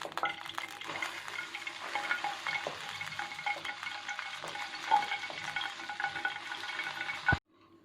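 Hot oil hisses and sizzles as it is poured from a pan into bhakarwadi dough in a home kitchen, a steady crackling fry with faint clinks, ending abruptly.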